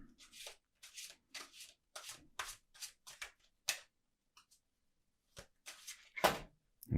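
Tarot cards are shuffled close up in repeated quick bursts, a papery riffling and rubbing in short clusters separated by quiet pauses, soft and alone with no talking.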